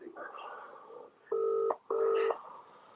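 Two long push-button telephone keypad tones ring out clearly, each held about half a second with a short gap between them, over faint background murmur.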